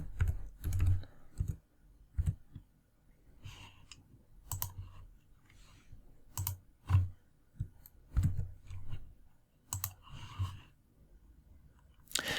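Keys tapped on a computer keyboard at a desk, in scattered bursts of quick clicks with short pauses between, close and fairly quiet, no one speaking.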